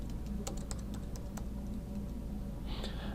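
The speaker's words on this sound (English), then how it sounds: "I'll begin by typing her name into the search bar" Quick, light keystrokes patter on a computer keyboard as a student's name is typed into a search bar, a short irregular burst of clicks over a steady background hum, ending with a brief louder tap.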